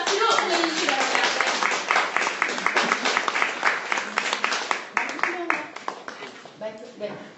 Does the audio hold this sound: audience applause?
yes